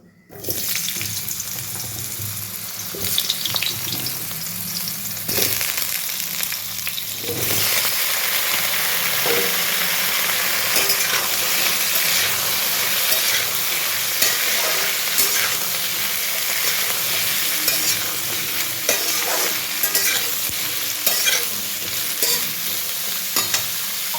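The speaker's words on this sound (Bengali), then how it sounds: "এবার সবজিগুলো ভেজে নেব।" Vegetables fry in a pan with a constant, close sizzle. Spatula scrapes and stirring knocks punctuate the steady hiss the whole way through, with no talking.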